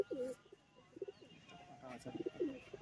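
A male giribaj pigeon coos in soft, repeated throaty rolls, close by and fairly faint, with other bird sounds and a little talk around it.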